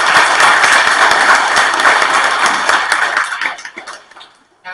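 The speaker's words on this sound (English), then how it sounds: "that deserves a round of applause" A room of guests at a birthday party gives a round of applause, dense and fairly loud clapping that holds for about three seconds, then thins out and fades.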